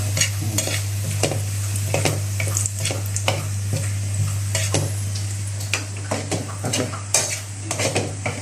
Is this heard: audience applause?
no